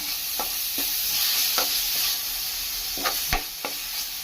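Masala paste fries in a pan for a gunigintala curry, giving a steady loud sizzle throughout, broken by sharp scraping taps as a spoon stirs it, with no voices.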